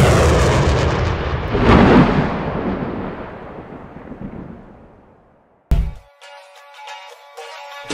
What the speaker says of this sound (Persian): بچه ها شلیک کنین